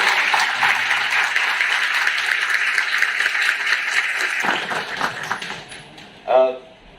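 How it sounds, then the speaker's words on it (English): Audience applause at a public event in Bhavnagar honouring a young IPS officer, dense steady clapping from a crowd that fades out toward the end, with a brief louder burst near the close. "Round of applause for the IPS Safin."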